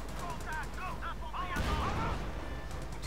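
Bursts of rapid machine-gun fire crack across a noisy Company of Heroes 2 battle soundscape, with scattered chirping effects and a heavier volley of shots partway through.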